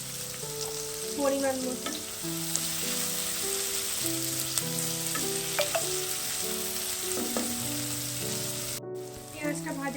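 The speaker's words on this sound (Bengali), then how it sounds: "পেঁয়াজটা ভাজা ভাজা হয়ে গেছে" Onions frying in a pan for a village-style mutton curry, a steady sizzle with occasional stirring scrapes, under sustained musical tones, with a brief spoken remark near the start.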